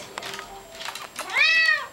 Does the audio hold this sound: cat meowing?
yes